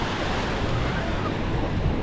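Surf washes steadily onto Kata Beach in Phuket, a continuous broadband rush of waves with wind noise buffeting the microphone throughout, no talk over it.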